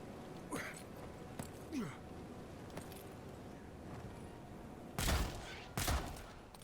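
Sparse gunshots in the fantasy video game Avowed, a few scattered sharp cracks early and two louder, closer blasts near the end, over a low background hum.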